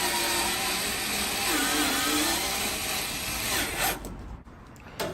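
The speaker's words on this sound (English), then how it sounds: "So, mount these 4 screws, really simple." A power driver mounts screws on a Kenmore Elite dryer during an igniter replacement, a loud sustained whine that dips in pitch as it bears down, then stops with a few short clicks near the end.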